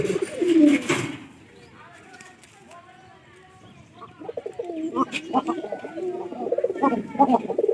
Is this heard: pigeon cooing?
yes